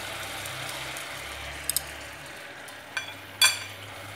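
Vegetarian ribs tossed in a pan of bubbling tamarind sauce: a steady, close sizzle and crackle with a few sharp clinks of a utensil against the pan, no talking.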